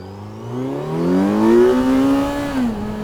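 A 2024 Kawasaki Z900 motorcycle accelerates hard into a wheelie, its engine note climbing loudly and steadily before easing off at a gear change near the end.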